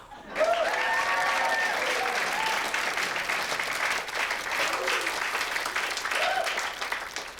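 A crowd bursts into sustained applause with some cheering, loud and continuous from start to finish.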